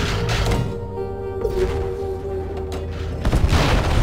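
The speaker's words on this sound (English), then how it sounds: "launch a repulsion torpedo at the enemy battleship, then sit back and watch the fireworks!" Repulsion torpedo explosion against an enemy battleship in the space battle game Conflicks, a few deep booms and thuds amid a low rumble, with a sharper burst near the end.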